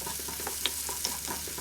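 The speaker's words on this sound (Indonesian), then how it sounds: "Tumis bawangnya sampai layu ya" A soft sizzle of onions sautéing in oil in a frying pan, with light scraping and stirring noises and a few small pops.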